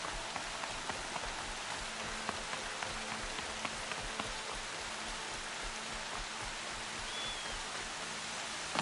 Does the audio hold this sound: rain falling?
yes